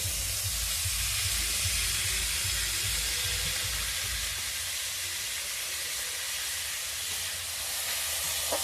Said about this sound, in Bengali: চিকেন কিমাটা দিয়ে দিলাম।